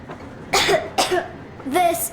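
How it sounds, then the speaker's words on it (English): Two or three short, rough coughs from a nearby voice, spaced apart with brief quiet gaps between them. "I have this cough."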